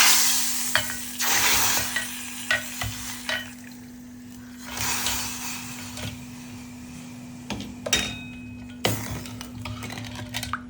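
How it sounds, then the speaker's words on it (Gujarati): Hot Gujarati vaghar tempering poured into kadhi crackles and sizzles in bursts, mixed with clinks and scrapes of a metal pot and spoon, fairly close with no talking. "તો હવે આપણે એને કઢીની અંદર નાખી દઈશું"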